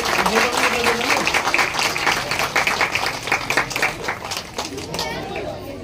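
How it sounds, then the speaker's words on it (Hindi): Applause from an audience welcoming a guest at an event where elderly people are honoured with rations and awards in India, a dense steady wash of clapping that tapers off near the end, with voices mixed in. "उसके लिए आदरणीय एस.एन. दुबे साहब का जोरदार तालियां बजा के सभी साथी स्वागत करेंगे।"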